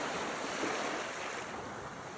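Steady broadband wash of ocean surf rolling onshore, loud and continuous with a breezy rush, no voices.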